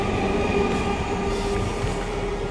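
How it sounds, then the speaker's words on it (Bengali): A Siuri–Sealdah MEMU electric train pulls out of Khana station toward Bandel, its steady rolling rumble and faint hum continuous and fairly close, with no voices. "আমাদের ট্রেন এখন চললো ব্যান্ডেলের উদ্দেশ্যে"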